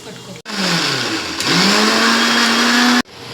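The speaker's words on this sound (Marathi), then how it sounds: "ह्याची सगळी बारीक पेस्ट करून घ्यायची." A kitchen mixer grinder whirs loudly as it blends tomatoes with cashews and coriander into a fine paste, motor pitch dipping and then climbing steadily before cutting off abruptly.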